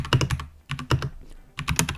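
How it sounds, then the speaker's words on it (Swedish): Someone types on a Keychron K2 V2 mechanical keyboard with brown switches, close and crisp, in three quick clusters of clacking keystrokes separated by brief pauses. "De bruna switcherna ger mycket feedback och ger ett klickigt ljud."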